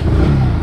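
A vehicle engine revs hard as a ride starts in the rain, a loud, close, steady low roar that lasts less than a second.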